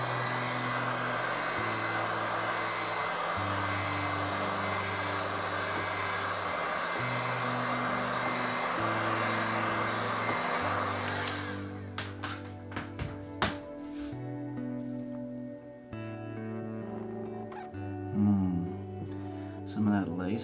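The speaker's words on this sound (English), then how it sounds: "So I'm gonna hit this with the heat gun real quick." A heat gun blows over a fluid acrylic galaxy flip-cup paint pour, a steady close whooshing hum that cuts off partway, leaving faint handling noises and light knocks.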